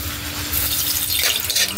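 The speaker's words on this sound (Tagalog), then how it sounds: "At lagyan po natin ng kunting tubig po" Water splashes and trickles into a cooking pan as a small amount is poured in during home cooking, a short, steady hiss-like pour that gets slightly louder partway through, with no voices.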